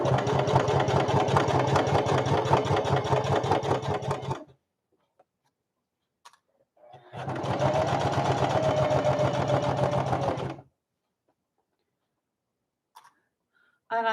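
A sewing machine stitches a zippered bag at a short stitch length, running in two steady whirring bursts of several seconds each, close and loud, separated by silence, with a faint click near the end.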